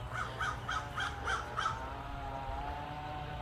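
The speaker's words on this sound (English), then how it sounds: "Crow." A crow gives six quick, harsh caws in a steady rhythm, moderately distant outdoors over a low background rumble, then falls silent.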